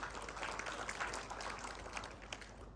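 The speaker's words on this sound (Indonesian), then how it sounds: "Tepuk tangan untuk Tuhan" Congregation applauding in a GBI church service, a continuous wash of many hands clapping at steady volume throughout, with a few sharper claps near the end.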